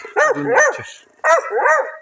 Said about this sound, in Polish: Tam gdzie jest piesek.